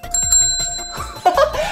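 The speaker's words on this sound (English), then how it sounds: "A bell! Listen." A bright bell rings with clear sustained tones, struck a few times in quick succession, and a voice exclaims over it in a playful children's show setting.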